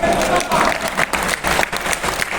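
Audience applause at a Hindi poetry recital by a poet, a loud, steady crowd clapping that fills the whole moment, with a voice faintly audible underneath.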